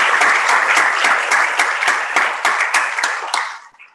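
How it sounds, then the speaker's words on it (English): An audience gives a round of applause at a morning conference session, dense clapping that runs steadily for several seconds and then tapers off toward the end. "let's give them all a round of applause to thank them for doing this"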